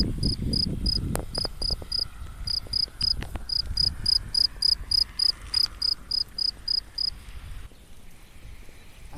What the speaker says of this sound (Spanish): Y nuestros compañeros los grillos.